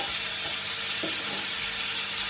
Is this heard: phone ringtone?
no